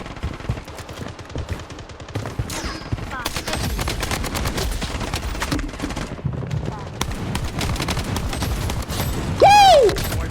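Rapid bursts of AK rifle fire in a shooting video game, loud and repeated across the whole stretch, with a rising game effect near the end and a voice talking over it in places.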